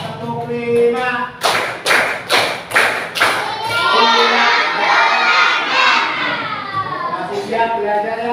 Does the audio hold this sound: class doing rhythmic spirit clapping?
yes